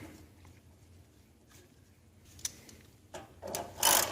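A grease plug is threaded back into the auger gearbox of an Estate by Murray dual-stage snow blower, giving a few faint scrapes and rubs, then louder gritty ratcheting and metal-on-metal scraping near the end. No one speaks.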